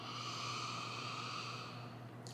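One long, steady nasal inhale of peppermint oil through hands cupped over the nose and mouth, a close, breathy rush that holds evenly before fading.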